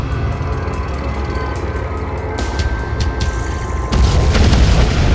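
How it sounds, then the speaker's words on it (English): Nuclear missile explosion in a video game. A loud, continuous, deep rumbling boom that swells abruptly heavier near the end. "Warning, nuclear missile launched."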